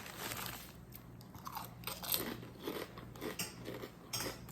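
Close-up crunching and chewing of Miss Vickies jalapeno cheddar potato chips, a quiet series of irregular crisp crunches spread across the clip with no talking.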